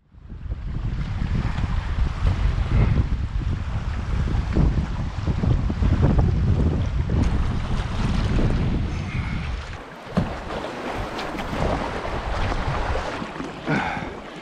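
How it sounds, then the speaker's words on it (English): Steady wind gusting over a lake on a northern Manitoba wilderness canoe trip, a loud broadband rush buffeting the microphone with faint water lapping, dipping briefly near the end before picking up again. "Just picked up again too, eh, the wind?"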